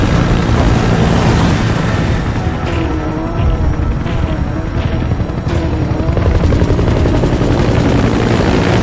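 Support helicopter in the Metal Gear Solid V video game, a loud, steady rotor thump and turbine whine with crashing impacts and gunfire-like bursts mixed in.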